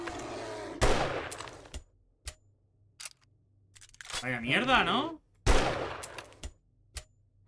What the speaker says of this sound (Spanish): ¿cuántos disparos le he metido ya?